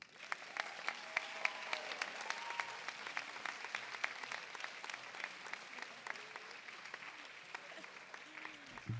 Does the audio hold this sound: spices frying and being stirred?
no